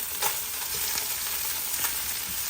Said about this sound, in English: Let's cook them one more time and just drag them around in that butter.